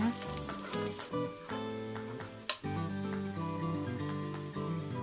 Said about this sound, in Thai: ตั้งกระทะใส่น้ำมัน เจียวหอมกระเทียมให้หอมเหลืองเลยนะคะ